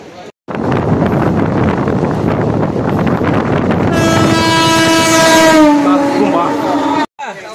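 Moving passenger train rumbling loudly with wind buffeting, then a long steady horn blast sounding over the roar through the second half.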